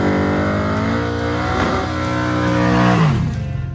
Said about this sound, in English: I figure we stop down to a test spot, do a little burnout, and back up in our tracks.